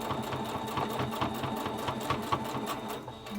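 A sewing machine back stitching a pleated fabric mask: a steady, close, mechanical whirring with a rapid regular needle chatter running continuously throughout.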